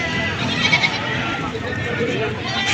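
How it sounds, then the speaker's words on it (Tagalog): Goats bleat repeatedly amid a busy outdoor crowd at a goat market in Padre Garcia, Batangas, with people talking over the animal calls throughout. "Ay Gonzales ang nagmula ang lahi ng mga kambing na ito."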